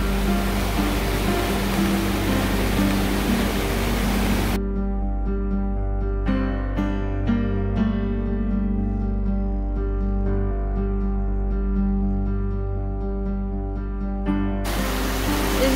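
Steady, loud roar of a rain-swollen river rushing along the Appalachian Trail in the 100 Mile Wilderness fills the whole clip, a dense continuous wash with no voices.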